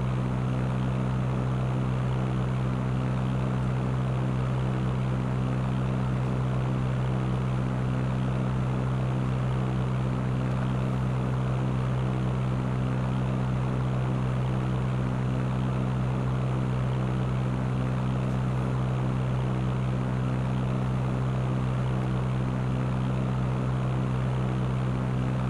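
A simulated airplane engine drones in the flight simulator game Fly! II, a steady, unbroken, moderately loud hum with layered tonal harmonics that holds evenly for the whole stretch, with no speech.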